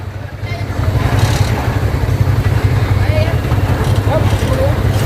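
A motorcycle engine runs in a steady low idle, a close, continuous throb under loud nearby voices and some background clatter outdoors.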